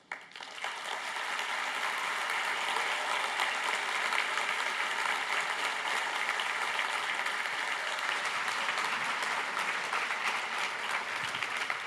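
Sustained applause from a conference audience after a marketing talk, steady dense clapping at even volume throughout with no talk over it.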